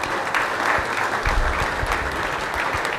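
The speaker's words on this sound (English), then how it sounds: "Can we give him a warmer round of applause?" Sustained audience applause fills a conference hall at an international AI and robotics conference, a dense steady patter of many hands clapping at moderate loudness with no voices over it.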